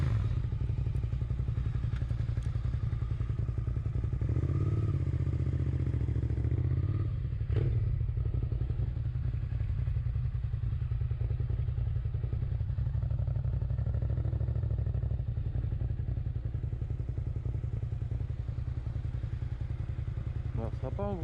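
A motorcycle filmed on a GoPro 7 Black starts and rides off, its engine a low steady drone under constant wind rumble, with a few thumps and clatters early on and no clear talking.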